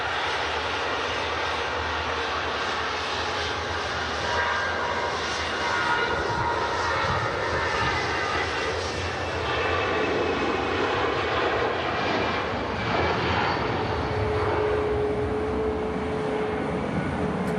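An Austrian Airlines Airbus A320 accelerates down the runway at Manchester Airport, a sustained jet roar that swells slightly midway and stays loud and continuous, with a faint rising whine near the end and no talking.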